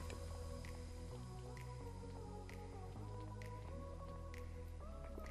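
Water placed from a bucket in Minecraft, a faint wet squishing splash set under quiet, tonal background game music.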